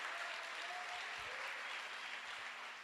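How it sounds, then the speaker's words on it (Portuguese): A church congregation applauds loudly, with dense, continuous clapping that holds steady for the whole span. "Vamos aplaudir mais forte."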